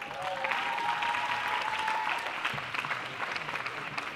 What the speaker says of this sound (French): Donc on s'applaudit.